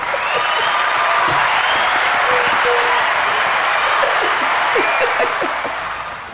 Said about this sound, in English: Oh yes, we have an applause.